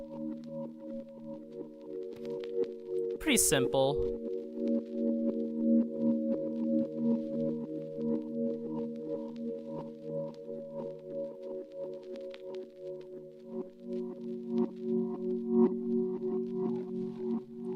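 A steady, mellow Minecraft music disc track plays with sustained layered tones, briefly interrupted by a short burst of noise; a voice says a couple of words.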